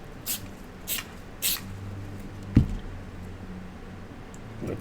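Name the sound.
spraying aerosol onto stencil back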